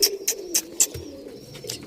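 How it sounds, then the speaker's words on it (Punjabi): Pigeons coming to feed give soft, breathy coos close by, several short calls spaced irregularly across a quiet background, with no voices over them. "ਉਹ ਦੇਖੋ ਆ ਗਏ ਜੋੜੇ, ਉਹ ਆ ਗਈ ਕਬੂਤਰੀ"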